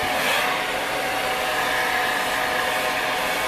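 A Salon Tech Feather Light blow dryer runs with a steady, loud, even whoosh of air and motor hum, unbroken and alone throughout.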